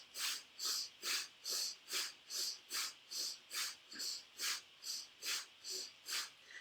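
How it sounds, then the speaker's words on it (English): Fast rhythmic yoga breathing, steady in-and-out breaths about twice per second, close and soft, with no talking. "So breathing in and out."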